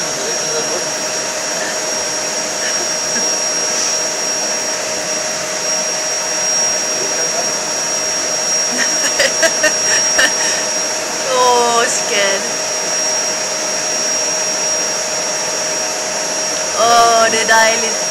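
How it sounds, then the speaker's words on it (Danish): A vacuum cleaner runs steadily and loudly throughout, a constant whining motor drone with brief bursts of other noise around the middle and near the end. "støvsuger der, hva'?"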